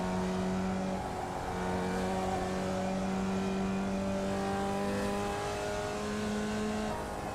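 A formula race car engine in the iRacing sim holds high, steady tones that step up through the gears, with brief shifts between them. It sounds continuous and fairly quiet, with no talk over it.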